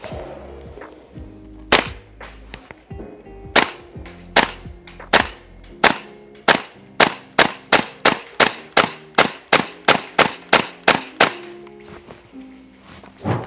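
A Noveske N4 gas blowback airsoft rifle by EMG and Double Eagle, fed from Marui magazines, fires a long string of sharp, loud shots, a few spaced at first and then a steady rapid rhythm, each a crisp crack with a short tail.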